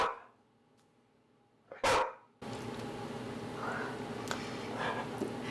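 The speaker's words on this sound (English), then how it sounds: "If you don't speak dog, that means come play with me." A dog gives one loud, sharp bark nearby in a quiet home, followed by steady low background noise with no further barking.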